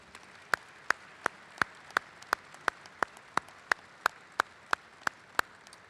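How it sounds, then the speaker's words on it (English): Slow, evenly spaced claps ring out at a military change-of-command ceremony, about three per second. They are crisp and fairly quiet over a soft, hushed room background. "please join me in a round of applause for Major General Sue Davidson"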